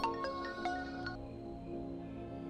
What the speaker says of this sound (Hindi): शैलू का फोन है, अब बोल, क्या बोलूं उसे?